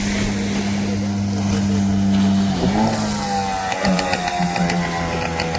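A motorboat races toward a beach at Nagercoil, its engine a loud, steady drone close by that shifts pitch midway as it nears, with no talk over it.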